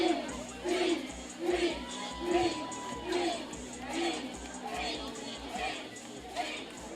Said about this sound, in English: Cheerleaders getting the crowd, student section pumped up here on the sideline